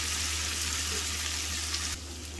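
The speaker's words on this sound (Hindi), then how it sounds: "अब मैं डालूंगी इसके अंदर साग" Mustard greens (saag) go into masala frying in a pan, giving a steady broadband sizzle with a faint low hum underneath, and the hiss softens slightly near the end.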